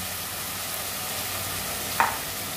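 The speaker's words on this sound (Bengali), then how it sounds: "এবার আমি আলু বেগুন দিয়ে দেবো।" Potatoes and eggplant fry in hot oil in which the spices have already cooked down, giving a steady close sizzle with one sharp stir or clatter toward the end and no speech.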